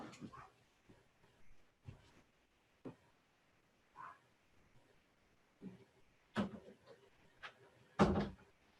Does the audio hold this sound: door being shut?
yes